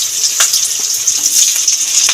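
Fennel seeds, nigella and green chillies sizzle in hot oil as potatoes go in for a pumpkin-greens chorchori with jackfruit seeds. The frying is steady, close and bright, with a few soft stirring clicks and no talking.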